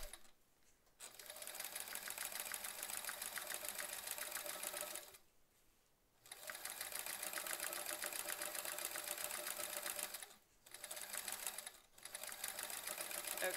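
A sewing machine runs a dense satin stitch for embroidery in long steady bursts with brief pauses between them, close and alone.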